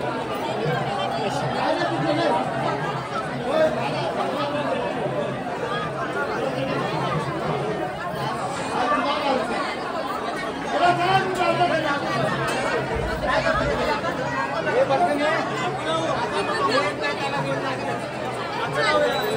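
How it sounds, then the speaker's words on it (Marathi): A dense crowd chatters steadily at the Ekvira temple on a busy Sunday, with many overlapping voices forming a continuous, moderately loud babble throughout. "गर्दी बघा केवढा पब्लिक आला."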